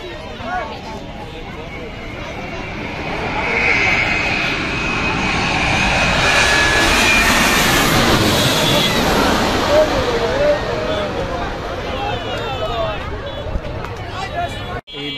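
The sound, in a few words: Egypt Air Boeing 787 Dreamliner jet approaching to land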